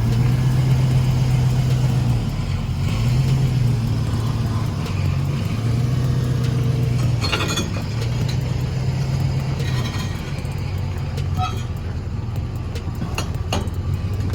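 A car with an empty tank being pushed up onto a trailer by a truck, the truck engine droning and revving steadily with mechanical clanks and creaks of the car rolling, all fairly close.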